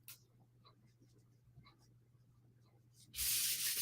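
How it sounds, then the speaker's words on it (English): Tape peels off a DTF transfer on a cotton t-shirt in a sudden loud ripping hiss near the end, after a quiet stretch of faint rubbing and handling. "let me just take the tape off though"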